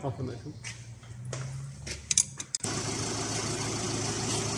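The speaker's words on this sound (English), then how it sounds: "then start the engine, and then I'll pump the pedal" A Mercedes Vito van engine cranks and catches abruptly, then settles into a steady, loud running drone, with some clunks and handling noises beforehand and no words over it.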